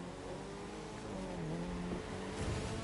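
Four-cylinder car engine in the racing game The Crew 2, a steady droning engine note that rises in pitch as it accelerates, loud and continuous with no talking.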